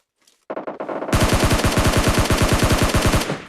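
Rapid automatic gunfire in the video game PUBG Mobile Lite, a loud, close burst of evenly spaced shots after a brief quieter lead-in, fading at the end.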